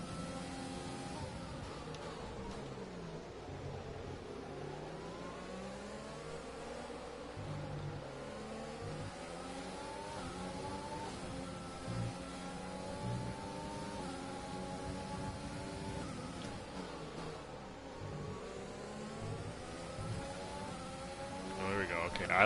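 F1 car engine in a racing video game, a steady high-pitched whine that rises and falls through gear changes with sweeping revs, continuous and fairly loud, with occasional nearby speech.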